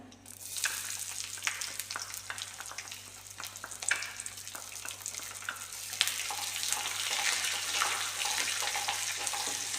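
Chopped garlic and small shallots sizzle steadily in a pan for an elephant-yam stir-fry, a continuous bright hiss with occasional crackles and stirring clicks, close and fairly quiet, with no talking.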